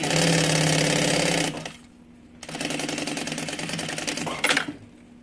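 A sewing machine stitches along the edge of a mini backpack in two loud, close runs of fast, steady mechanical whirring and clatter, with a short pause between them and a quieter tail after the second run.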